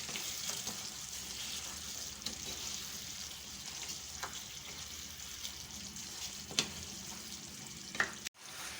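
Steady sizzling and crackling of masala with green chilli, ginger, garlic and tomatoes frying in a pan for mutton karahi, with a few clinks of a utensil stirring, no voices.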